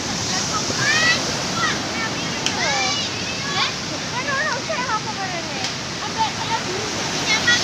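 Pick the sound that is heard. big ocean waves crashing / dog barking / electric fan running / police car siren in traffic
big ocean waves crashing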